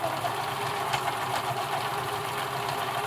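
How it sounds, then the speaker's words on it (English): A Husqvarna Viking Practica 4010 sewing machine stitching over a lump in fabric makes a steady, fast mechanical whirr and hum, even in tone from start to end, close up and moderately loud, with no talking. "if you listen, you'll notice that the sound that the machine makes doesn't change a lot when it's going from the finer fabric to over the lump"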